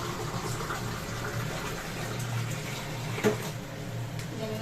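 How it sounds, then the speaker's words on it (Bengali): Water pours steadily into a cooking pot for pulao, a continuous close gushing fill that runs throughout with one brief knock near the end. "জলটা দিয়ে দিচ্ছি।"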